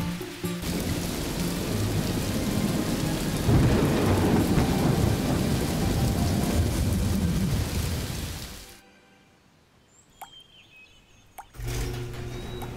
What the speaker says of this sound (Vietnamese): Trời mưa rồi đó.